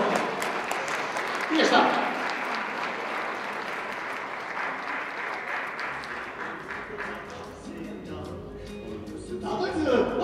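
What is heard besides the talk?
concert audience applauding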